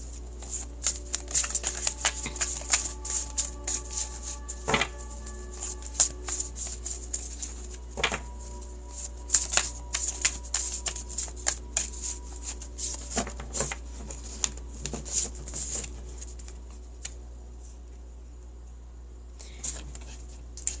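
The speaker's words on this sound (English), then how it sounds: "Marta, let me get a card for you" Oracle cards are shuffled and drawn up close, making soft, irregular flicks and taps over a low steady hum, with no speech.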